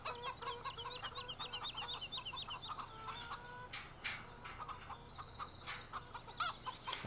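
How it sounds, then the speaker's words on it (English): Hens clucking on a farm in a farming simulator game, several birds chattering in quick bursts at moderate distance over a steady low background hum, with no speech. "Morning hens."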